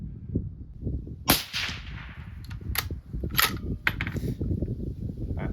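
Sharp rifle reports from a 6.5 Grendel firing 100gr ELD-VT bullets at about 2,600 feet per second, several crisp cracks spaced over a few seconds above a steady outdoor rumble and wind.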